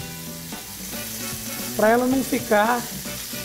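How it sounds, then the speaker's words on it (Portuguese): Pork loin fries in olive oil in a pan for a creamy pork risotto, giving a steady close sizzle and crackle throughout while someone speaks over it. "vou pôr um pouquinho mais de óleo de oliva para fritar"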